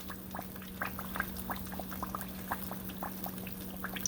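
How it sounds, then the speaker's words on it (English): Steady crackling and sizzling of Jamaican saltfish fritters frying in hot oil, with scattered pops over a constant low hum, fairly close and moderate in level. "fritters frying."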